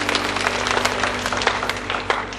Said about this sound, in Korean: 주님께 영광의 박수 뜨겁게 돌려드립니다.